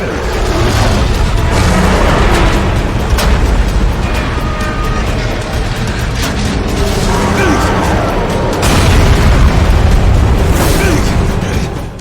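Rocket explosions in the Dying Light video game roar as a dense, continuous wall of booming blasts and crashing debris, loud and sustained for the whole stretch with no voices.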